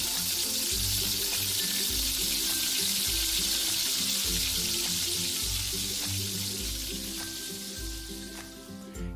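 Homemade French fries fry in hot oil, a loud, steady hiss with a low rumbling hum beneath and occasional faint clinks, tapering slightly toward the end.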